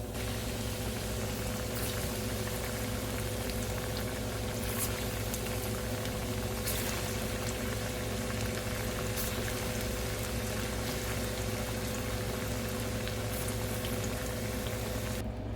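Plantain deep-fries in a pot of hot oil, a continuous, even bubbling hiss that holds steady throughout without pause or voices.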